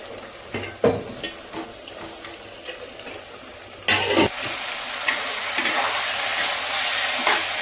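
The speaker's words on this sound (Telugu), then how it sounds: "అల్లం పేస్టు, చికెను అంతా, ఉప్పు, టమాటా, ఆనియన్ అంతా బాగా ఫ్రై అయిపోయింది" Chicken with ginger paste, salt, tomato and onion frying in a pan, a steady close sizzle with scraping stirs and clatters, rising to a louder, denser hiss after a few seconds.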